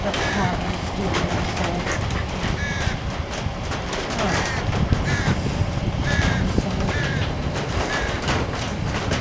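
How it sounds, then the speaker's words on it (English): A baby bird calls from up high with repeated short chirps spread through the scene, under steady outdoor background noise and people talking nearby. "listen to the little baby bird up there."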